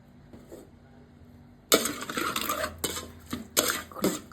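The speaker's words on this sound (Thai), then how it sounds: "เคล้าให้เข้ากัน" Mushroom larb being tossed with roasted rice and coriander, starting after a quiet pause with loud, close clattering and scraping bursts in an uneven rhythm that continue to the end.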